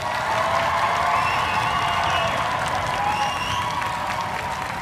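Studio audience at a comedy debate show bursts into steady applause mixed with cheering and whoops, a dense, sustained roar of clapping that holds strong throughout.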